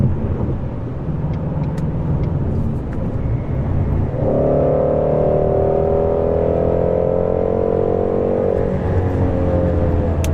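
Ford Mustang GT350 engine revving hard, a loud rising harmonic howl that climbs and holds for several seconds before dropping back to a steady rumble, heard from inside while cruising.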